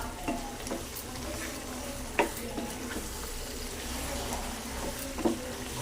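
Chicken curry with Aachi chicken masala frying and being stirred in a pan, a steady close sizzle broken by several scraping stir strokes and small clinks, with no talking.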